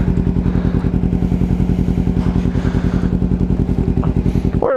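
Motorcycle engine fitted with a new exhaust, idling warm on a cold day, giving a steady, loud, rapid lumpy thump with a dense low-pitched pulse that continues unbroken, with brief clatter near the end.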